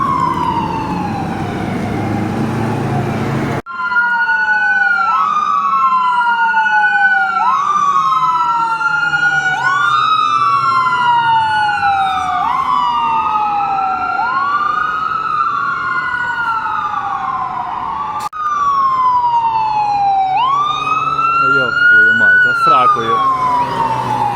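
Loud wailing fire truck sirens in Canada sweep up and down repeatedly, close by, with several overlapping tones as the engines pass through traffic.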